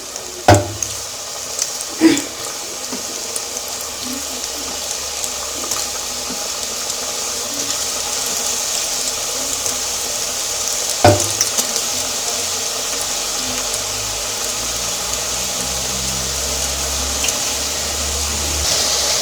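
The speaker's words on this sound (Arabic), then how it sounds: "ودابا كندوز نرمي الشباكيه في الزيت" Chebakia pastries dropped into hot frying oil, giving a steady close crackling sizzle throughout, with a few sharp splashes and clatters early on and midway as pieces go in.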